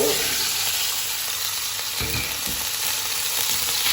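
Potatoes fry in a pan with chili flakes and turmeric for an aloo curry, giving a dense, even sizzle with a few faint clicks of stirring and no voices.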